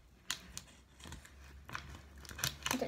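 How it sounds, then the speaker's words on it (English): Scissors snipping through album packaging during an unboxing, a few short crisp cuts and crinkles of plastic wrap, close and fairly quiet with no speech. "I'm gonna cut it here instead."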